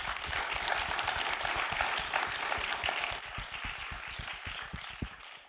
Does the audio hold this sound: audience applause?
yes